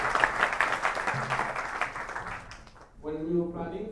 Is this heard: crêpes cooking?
no